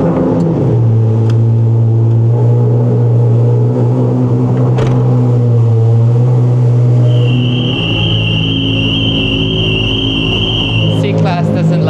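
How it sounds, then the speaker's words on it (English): A car engine cold-starts and settles into a strong steady low idle, loud and close, with a high whine appearing later and people talking over it. "we're gonna do a cold start."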